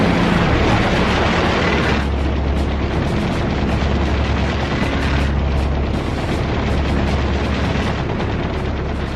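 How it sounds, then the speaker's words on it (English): Korean War air strike on North Korean power plants, with bombers hitting targets under Air Force Sabre cover: a dense, continuous roar of explosions, booms and rapid gunfire, loud and close throughout with no voices. "Air Force Sabres flew top cover on the lookout for Chinese MiGs, while bombers moved in and hit the plants."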